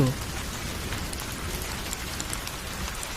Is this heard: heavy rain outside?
yes